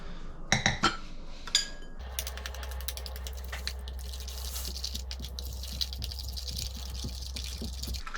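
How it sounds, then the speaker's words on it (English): Several clinks and clatter of a container at first, then a steady stream of water being poured while making stinky tofu, running continuously for several seconds. "Add some water."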